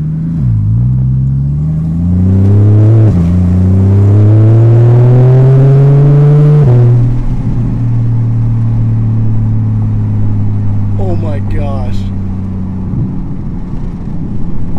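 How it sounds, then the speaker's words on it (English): Porsche 981 Cayman S with a Fabspeed race exhaust, engine cold, rumbling deep and loud with rising revs, then settling into a steady idle with crackling burbles near the end. "Oh, listen to those burbles."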